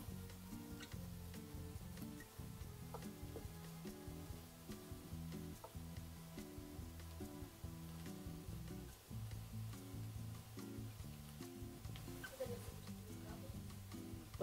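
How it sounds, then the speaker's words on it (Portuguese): Broccoli sautéing with onion and garlic in a pan makes a steady, soft sizzle that runs throughout, with occasional light stirring clicks and faint music in the background. "Agora a gente vai refogar o nosso brócolis."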